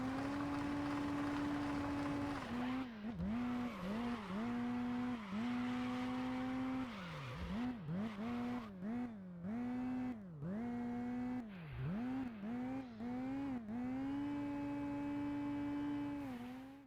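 A simulated car engine in the NWH Vehicle Physics 2 demo for Unity drones steadily, its pitch climbing and dipping repeatedly through gear changes and revs, loud and close with no talking.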